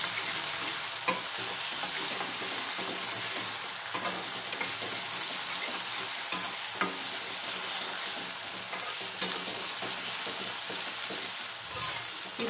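Fresh ginger garlic paste fries in a pan with a steady, dense sizzle and occasional stirring scrapes, loud and continuous throughout with no talking.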